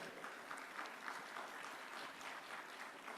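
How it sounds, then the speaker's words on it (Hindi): Steady applause from a conference audience welcoming the Haryana Chief Minister, a dense wash of clapping that holds evenly throughout, heard from a distance. "तो पहले तो जोरदार तालियों से उनका स्वागत किया जाए।"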